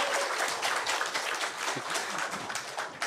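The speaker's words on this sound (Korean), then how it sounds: "여러분 뜨거운 박수 부탁드리겠습니다" At an elders' forum on Korean heritage, the seated audience breaks into brief, dense, steady applause that fills the room, with no voices over it.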